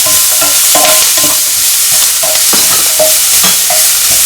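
Sliced onions and cashews sizzling in hot oil in a pan for samosa filling, a constant loud frying hiss broken by repeated scraping stirs of a spatula, with no voices.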